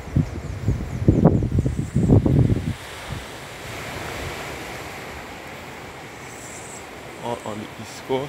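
Ocean waves roll onto Bath Beach in St. John, Barbados, as a broad steady wash of surf with some wind noise. Brief bursts of people talking or handling sounds rise near the start and again near the end.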